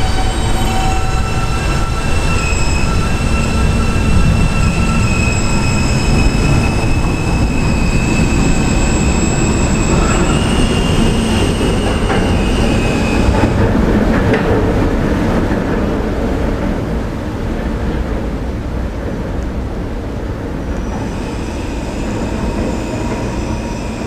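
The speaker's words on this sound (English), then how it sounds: "This is a Catlin-bound D train." A New York subway D train running through Herald Square station on the Sixth Avenue line, a loud continuous roar of wheels and motors with high metallic squealing tones that fade as the rumble slowly eases over about twenty-four seconds.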